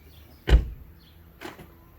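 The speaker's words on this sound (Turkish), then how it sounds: "Gördüğünüz gibi kapılarımızı kilitleyebiliyor." The doors of a 2015 Ford Grand C-Max lock through keyless entry, giving a sharp mechanical clunk followed a second later by a softer second actuation, heard close by and alone.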